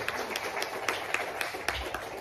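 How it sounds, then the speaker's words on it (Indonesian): Audience at a seminar on flood and drainage solutions clapping, fairly quiet and somewhat distant, with irregular louder claps standing out from the spread of applause. "Kita tepuk tangan lagi."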